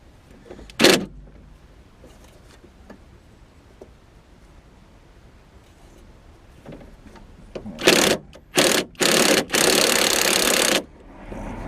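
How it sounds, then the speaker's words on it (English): Pneumatic impact wrench working on a rusty, tight drop link nut on a BMW E36 3 Series anti-roll bar: a sharp burst early, then several loud rattling bursts close by near the end, separated by brief pauses. "So using my rattle gun just to get it off, just make life a bit quicker, a bit easier."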